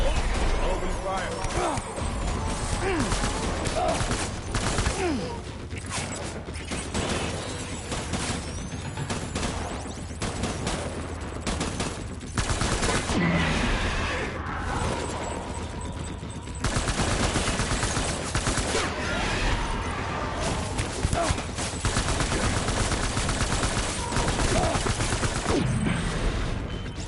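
Gunfire in the Death Stranding video game on PS5, with dense bursts and rattling shots running continuously for the whole stretch, loud and mixed with other game effects.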